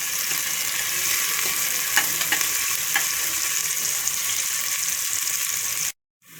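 Onions and curry leaves frying in hot oil with mustard seeds for a khichdi and kadhi dish, a steady crackling sizzle with occasional stirring clinks before it cuts off abruptly.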